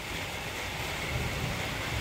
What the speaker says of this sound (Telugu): వర్షం అయితే ఆగిందిలే కానీ లైట్గా పడుతుంది